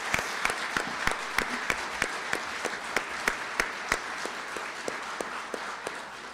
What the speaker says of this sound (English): ask for an enormous round of applause for a great judge